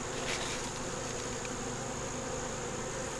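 Bees buzz steadily around a hive where they are repairing wax moth damage, a continuous close, even drone with no pauses and no talk.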